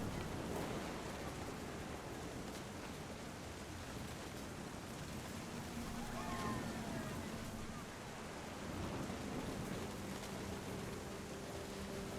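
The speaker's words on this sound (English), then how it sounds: "The thunder sounded much too close and full of angry power." Steady rain hisses in the video game What Remains of Edith Finch, a dense and fairly faint wash of noise with a low distant rumble of thunder rising briefly partway through.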